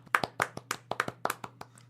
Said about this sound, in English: Applaud.